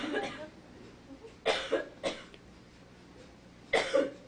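Several short, sharp coughs come in separate bursts, close to the listener, with brief pauses between them.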